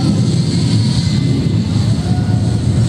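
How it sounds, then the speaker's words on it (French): A delivery drone's motors whir in a loud, steady buzz as it descends, close and continuous throughout. "Le drone descend gentiment."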